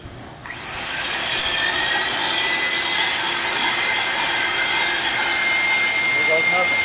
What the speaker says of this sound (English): fire up this blower.